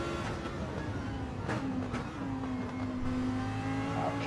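Lamborghini GT race car engine in a sim-racing event at Dragon Trail Seaside, a steady loud drone with pitch climbing through the gears, shifts audible as brief dips, continuous for several seconds.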